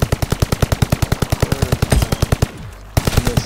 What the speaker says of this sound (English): Missing all those shots.